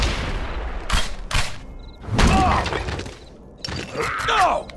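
Heavy gravestones hurled at enemies in the Hellboy: The Science of Evil game crack and shatter in loud, crunching bursts, with several impacts and debris bursts following one another amid combat noise.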